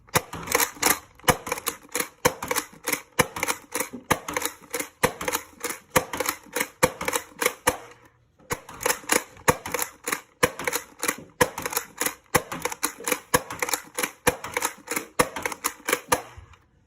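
A Nerf Takedown shotgun test-fired in rapid bursts, sharp plastic clacks and pops repeating in quick succession for several seconds, a brief pause, then another long run of shots, loud and close.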